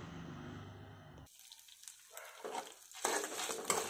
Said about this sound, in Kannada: ನೋಡಿ, ಹುರಿತಾ ಇದ್ದೀನಿ.